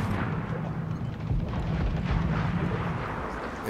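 Mortar fire and explosions in Assassin's Creed IV: Black Flag make a dense, rumbling barrage of booms that roll into one another, heavy and continuous, with low thuds under a noisy haze.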